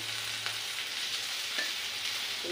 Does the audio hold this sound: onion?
yes